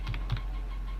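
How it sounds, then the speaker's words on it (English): A few quick keystrokes on a computer keyboard while entering a terminal command, two short bursts of close, crisp clicks over a low steady hum. "So we can do this by typing sudo aircrack-ng,"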